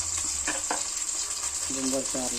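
Finely chopped onion, ginger and garlic fry in a pan with a steady, bright sizzle, with light stirring clinks and a brief voice underneath.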